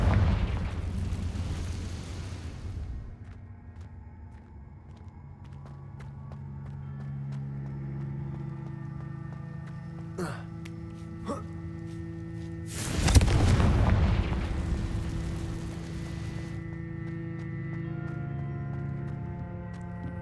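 Confringo fire-blast spell in Hogwarts Legacy, two bursts: an opening boom fading away, then a sharper loud explosion midway, each trailing into a low lingering hum of game ambience.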